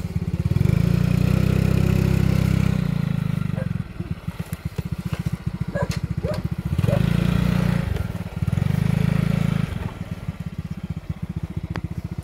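A motorcycle engine idles and revs in uneven bursts, its loud low drone broken by sputtering, clattering stretches; close by, with no clear speech.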